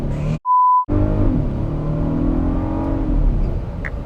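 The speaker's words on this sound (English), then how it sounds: "So put my foot on the brake and press the gas." Volkswagen Atlas SE 3.6 liter V6 revving during a brake torque launch, a steady loud engine drone rising slightly in pitch after a short beep, with no talk over it.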